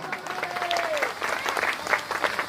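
A crowd at a Ramleela committee honours ceremony in Balbir Nagar applauds the committee and performers, a full, sustained clapping that swells and fades, with a voice heard over the start.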